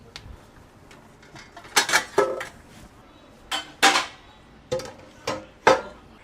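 Metal plates and spoons clatter and clang as a dining table is set in a home kitchen, with several sharp bursts of clinking spread across the clip and quiet gaps between them.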